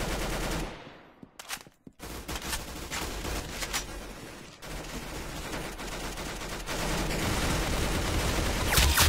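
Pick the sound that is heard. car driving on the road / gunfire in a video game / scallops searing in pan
gunfire in a video game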